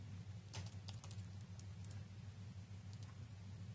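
Faint, scattered keystrokes on a computer keyboard in a quiet office, a few irregular clicks over a low steady hum, with no one speaking.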